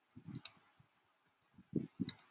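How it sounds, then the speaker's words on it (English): Typing on a computer keyboard during a classroom lesson, scattered soft key taps in short uneven bursts, quiet and close with no talk. "Any idea why I'm typing this sentence?"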